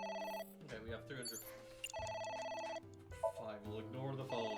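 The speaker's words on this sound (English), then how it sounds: "Fine, we'll ignore the phone. I will spend 60 seconds to ignore the phone. Fuck. It won't stop ringing." A telephone bell rings repeatedly in loud, steady bursts, close by, with a voice talking over and between the rings.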